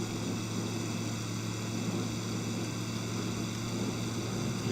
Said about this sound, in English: let me use the full throttle and just take off